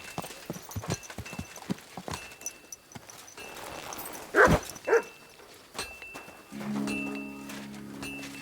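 A dog in the medieval game Kingdom Come: Deliverance 2 gives a couple of sharp, loud barks and yips amid footsteps and hoof clops, followed by a low droning tone.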